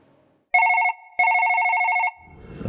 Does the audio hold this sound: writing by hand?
no